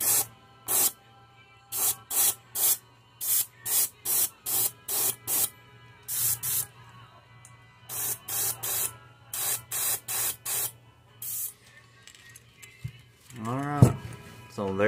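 An airbrush spraying paint for a lure's perch pattern gives many short, sharp hissing bursts in quick succession over a low steady hum, then a brief gurgling sputter near the end.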